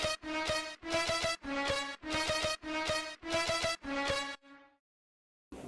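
Alternate synth lead line programmed in FL Studio for a moombahton track, played as bright, buzzy chord stabs in a steady repeating rhythm, then a brief decaying tail and silence at the end.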